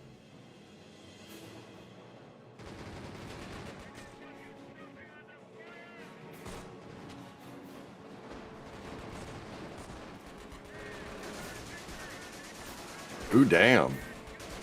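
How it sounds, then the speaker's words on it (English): Mortar rounds land in a combat video game as distant thumps under ambient battle noise, ending with one loud close impact near the end, while a player speaks briefly. "Oh shit, mortar fire. That hurts."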